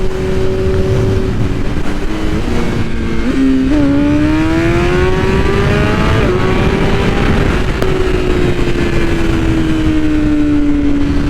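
A BMW M1000RR superbike accelerates hard on the road, its engine note climbing through the gears with brief dips at each shift, loud and close, buried in a constant roar of wind noise.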